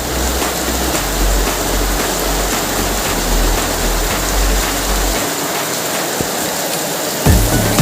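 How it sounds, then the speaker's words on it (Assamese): Steady rain pours down in a broadband hiss with a low rumble beneath, continuous and close, fading briefly near the end before a sharp knock; no one speaks. "বৰষুণ দি আছে।"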